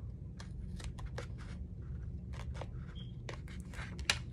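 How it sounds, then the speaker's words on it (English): Scissors snip through a paper envelope in a string of short, crisp cuts and rustles, with a steady low hum underneath and no voices. "Let me cut this here."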